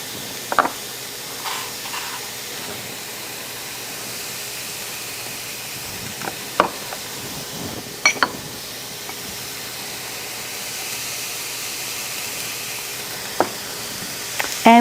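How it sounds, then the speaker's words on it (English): Onions sautéing in a pan with salt and pepper for a homemade meatloaf, giving a steady, soft hiss and sizzle throughout, with a few sharp clinks and taps now and then and no talking. "we're going to cook this for about 5 minutes until the onions are turning translucent but not browning"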